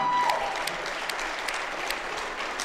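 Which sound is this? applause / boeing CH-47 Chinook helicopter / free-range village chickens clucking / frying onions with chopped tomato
applause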